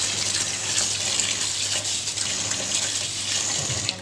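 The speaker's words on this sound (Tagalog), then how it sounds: "Kakailanganin po natin siyang banlawan ng mga tatlong beses. Banlawan po natin siya ngayon." Basmati rice rinsed in a stainless bowl under running tap water: a steady, loud gush of water splashing close up for the whole stretch, with no talking.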